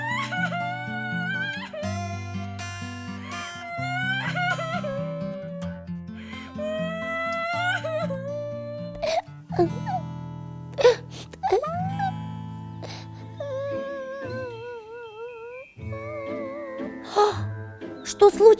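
A cartoon child wails and whimpers in long rising and falling sobs with gasps between, loud and close over a musical background.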